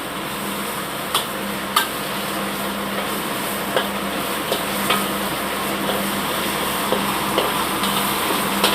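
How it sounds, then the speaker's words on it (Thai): Green curry paste stir-fries in a pan, a steady sizzle with occasional sharp ticks and scrapes of the spatula, over a constant background hum from a kitchen extractor fan. "ผัดพริกแกงนะคะ"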